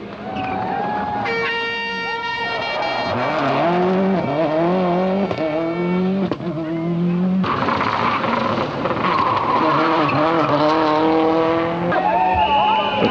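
Rally cars race through a village in Lebanon during the 2001 rally, engines revving hard and rising and falling in pitch as they pass, with tire squeals and steady loud road noise.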